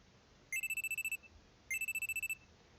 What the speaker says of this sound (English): a loud alarm rings in my ears